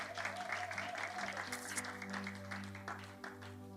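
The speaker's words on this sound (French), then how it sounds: "Est-ce qu'on peut encore encourager la chorale en acclamant?" A church congregation claps to encourage the choir, with a burst of applause over a sustained organ or keyboard chord, fading gradually toward the end.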